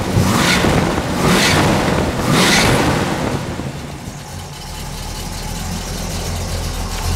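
A 1969 Pontiac Firebird 400 V8, freshly fitted with new spark plugs, idles steadily nearby with a continuous low rumble and a few rising surges early on before settling into an even idle.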